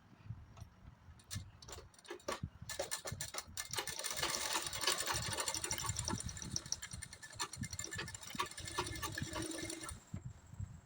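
A sewing machine stitches a kurti, its needle running in a fast, steady mechanical chatter that starts with a few slow stitches, holds for several seconds, then stops, all close by.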